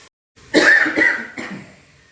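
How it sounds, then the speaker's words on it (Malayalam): A few close, harsh coughs in quick succession, brought on by the pungent smell of spicy beef bone curry cooking, with a brief silence before and a softer final cough trailing off. "മണ അടിച്ചിട്ട് എനിക്ക് ഇങ്ങനെ ചുമ വരുന്നുണ്ട്"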